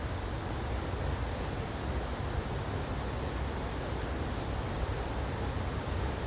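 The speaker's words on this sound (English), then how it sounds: "Just sit here and listen to this waterfall all day." Waterfall pouring in a steady, even rush of broadband noise that stays constant from start to finish, with no voices.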